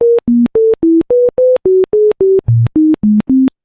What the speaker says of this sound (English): So now it's going to sound like real computer music because it'll go like this.